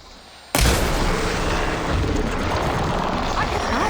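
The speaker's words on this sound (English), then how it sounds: "See those glowing crystals? Takes one hit to detonate." Glowing crystals detonating in Horizon Forbidden West: a sudden loud blast that bursts in after a quiet moment, followed by a dense, rumbling roar of debris and crackle that carries on at full strength to the end.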